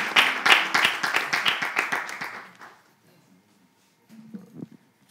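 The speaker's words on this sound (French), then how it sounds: "Elle se nomme Albertine Koussougbo avec des applaudissements bienvenus." Audience applause at a televised talent competition show, a burst of clapping for about two and a half seconds that fades out, followed by silence and then a voice starting to speak.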